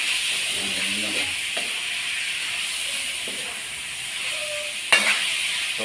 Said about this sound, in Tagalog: Gisa-gisa muna natin yan.